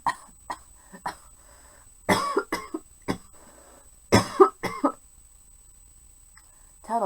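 A series of harsh coughs, some single and some in clusters of two or three, loud and close with quiet gaps between.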